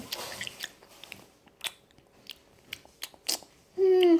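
Edible insects are chewed up close, with repeated crisp crunches and bites spread through the clip before a voice starts speaking at the end.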